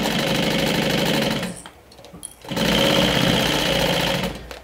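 A sewing machine runs a long basting stitch, a loud, close, steady whirring chatter that stops briefly in the middle and then starts again, with no talking.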